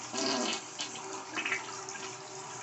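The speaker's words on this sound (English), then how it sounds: "You gotta flush it, right?" A clogged household toilet flushing, water rushing and swirling steadily at close range for a few seconds with no talk.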